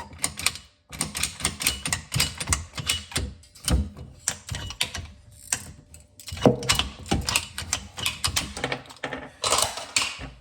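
Plastic drain pipe being cut down by hand while fitting an InSinkErator model 46 garbage disposal, with rapid repetitive rasping strokes running nearly continuously, close and loud, with only brief pauses.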